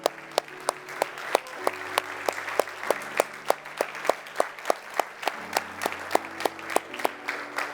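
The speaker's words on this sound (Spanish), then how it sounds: "Denle un aplauso a nuestro Señor." A church congregation claps together in a steady, rhythmic beat, each clap landing at an even pulse, with sustained organ or keyboard tones underneath; moderately faint and roomy, no voices on top.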